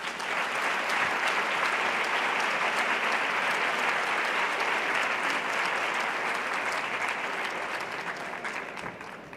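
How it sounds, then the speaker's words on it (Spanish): An audience applauds at an institutional presentation event, with dense, steady clapping that holds for about nine seconds and eases off slightly at the end, and no voices over it. "Por favor, fuerte el aplauso para ella."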